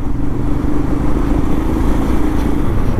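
A motorcycle passing on the NH66 highway between Mumbai and Khed, its engine drone loud and steady throughout with road rumble and faint clatter, no voices.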